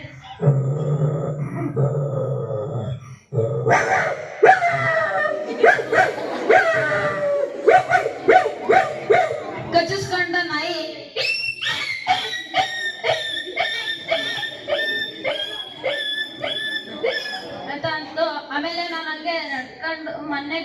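A voice at a school mimicry competition imitates a dog about to bite a puppy, with growls, yelps and whining cries in a rapid, varied string, loud and close with no other background.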